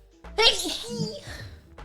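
A single sneeze up close, a sharp breathy burst trailing off into a short voiced tail.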